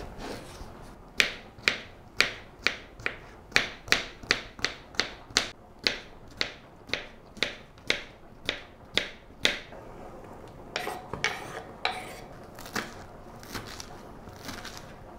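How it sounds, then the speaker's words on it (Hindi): A knife finely chops a cucumber on a board in quick, even strokes, roughly twenty crisp close taps in a steady rhythm. The chopping then turns looser and more irregular near the end. "इसको भी हम बारीक काट लेंगे।"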